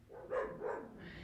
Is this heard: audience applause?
no